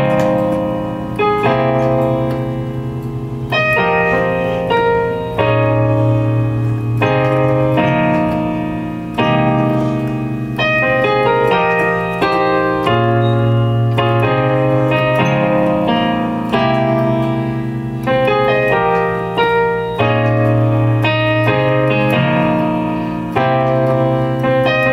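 Solo piano runs through the full intro of a song at tempo, a steady procession of rich sustained chords above a deep bass, close-miked and unbroken for the whole stretch.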